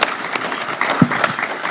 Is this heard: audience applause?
yes